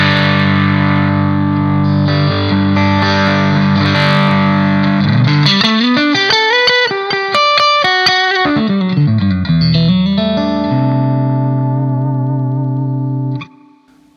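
Electric guitar played through a Laney Loudpedal amp with the gain raised to edge-of-breakup, sustained chords giving way to a run of picked notes and a final ringing chord, loud and alone with a touch of chorus and reverb.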